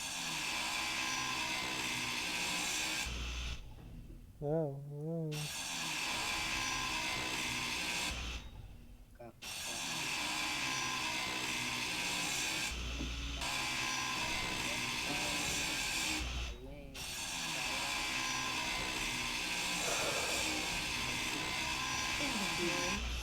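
A hand drill in the space building game Space Engineers, boring into rock as a steady, loud mechanical whir. It cuts out briefly several times and then resumes, and a voice gives a short exclamation partway through.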